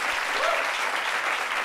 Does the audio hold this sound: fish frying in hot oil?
no